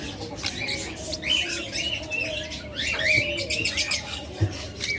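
Pet birds in a shop, lovebirds and cockatiels among them, chirp and tweet continuously in overlapping calls at close range over a steady background hum, with no talk heard.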